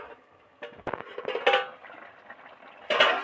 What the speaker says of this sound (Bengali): ভিতরে তো টুকবুক টুকবুক করে ফুটছে